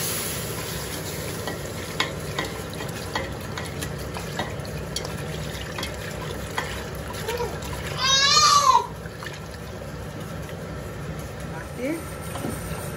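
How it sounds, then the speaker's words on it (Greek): Milk is poured into a frying flour-and-butter base for a moussaka sauce and stirred, over a steady background sizzle with a short splashing pour midway; talk is faint in the mix. "Ρίχνουμε το γάλα."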